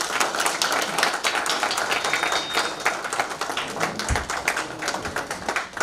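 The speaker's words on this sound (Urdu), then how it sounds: "بہت ساری تالیوں کے ساتھ" Audience clapping at a mushaira poetry recital in Jaipur, a steady patter of many hands sustained throughout at moderate level, with no talk over it.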